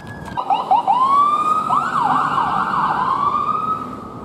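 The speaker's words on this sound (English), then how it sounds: "Hang on, more ambulances are coming." An ambulance siren wails loud and close, its rising and falling tones sweeping steadily over traffic noise and growing stronger as more emergency vehicles approach.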